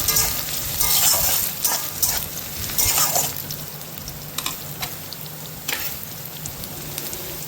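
Onions frying in a pan with a constant loud sizzle, while a spatula stirs them in a few scraping strokes that grow sparser as the frying continues, close up with no talking.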